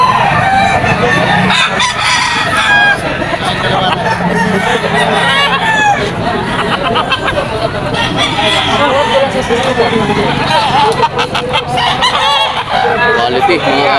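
Green-legged gamefowl stag rooster crowing repeatedly at a busy pet market, with other fowl clucking and crowing around it over steady crowd chatter and background voices.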